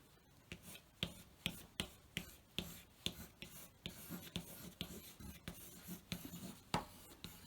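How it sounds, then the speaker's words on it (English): Someone makes marks on paper with a pen or pencil, using the non-preferred hand with eyes shut. Quiet, close scratchy strokes come in an uneven rhythm of short bursts, with no talking. "make marks on the paper to represent that"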